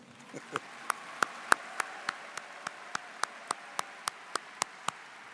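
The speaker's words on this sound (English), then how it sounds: "why don't we give them another round of applause?" At the Southwest High School class of 2021 graduation, a round of applause for the students comes through as evenly spaced claps close by over a soft, steady wash of crowd clapping.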